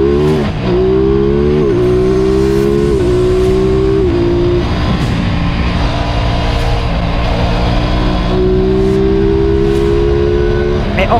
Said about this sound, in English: a soundtrack that I've never heard from a twin before, even with a standard pipe.